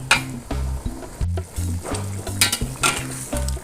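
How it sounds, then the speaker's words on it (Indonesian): Tofu in Padang-style asam pedas sauce sizzles and bubbles in a pan, broken up by short clattering stirs against the pan. "Nah, ini kita masak sampai airnya sedikit menyusut."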